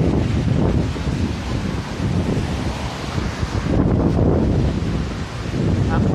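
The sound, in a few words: strong wind during bomb cyclone in Blumenau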